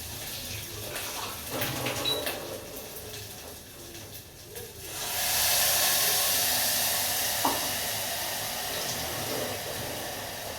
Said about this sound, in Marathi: त्यामध्ये मी टाकते पाणी थोडं